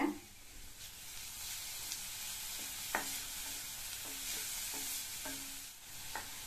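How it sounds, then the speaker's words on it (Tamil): Grated carrot with a pinch of turmeric sautéing in a pan, a quiet steady hiss with occasional light spatula scrapes and taps, no voices. "கேரட் துருவலை சேர்த்து நல்லா ஒரு தடவை வதக்கி விட்டாச்சு."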